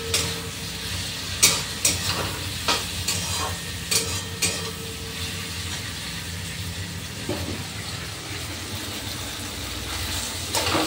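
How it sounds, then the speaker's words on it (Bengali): Soft onions fry in a pot while a spatula scrapes and breaks them up, giving several sharp stirring strokes over the first few seconds above a steady sizzle, then mostly continuous frying with a few later scrapes. "পেঁয়াজটা বেশ নরম হয়ে আসবে, এইভাবে খন্তি দিয়ে ভাঙতে হবে।"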